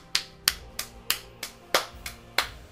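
Eight sharp hand claps from one person at a steady, slightly uneven pace, close and fairly quiet, with no talking.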